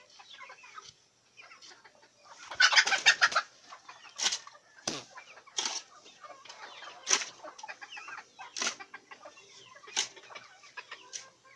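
A rooster on a farm where goat-dung compost is made, clucking and calling in a string of sharp bursts with a busy flurry early on, fairly close, with no talk.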